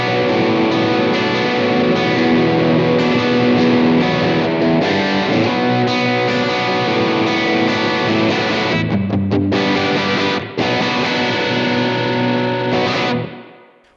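A crunchy, overdriven electric guitar through the EL84 amp model of a Blackstar AMPED 2 plays sustained chords and a short riff, loud and continuous, ringing out and fading at the end.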